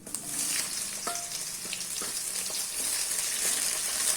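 Sliced onions, a green chili, fennel seeds and cardamom sautéing in a pan for a tomato kurma: a steady, close hiss of frying with a few soft scraping stirs, no voices.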